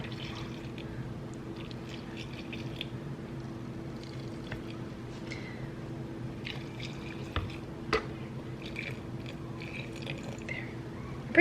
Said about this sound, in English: we're just gonna fill the rest of these jars with up to a 1 inch headspace with water